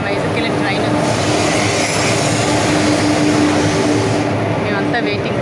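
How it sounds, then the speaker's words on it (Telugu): A passenger train bound for Vizag pulls into a station platform, a broad steady rumble with a faint tonal hum, heard from nearby without a break. "సో ఇప్పుడు మా వైజాగ్కి వెళ్ళే ట్రైన్ వచ్చింది."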